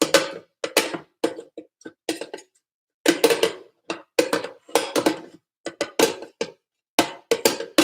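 A spatula pressing homemade sauerkraut down into a jar to keep it submerged: a close, irregular series of short scraping and thudding bursts separated by brief silences.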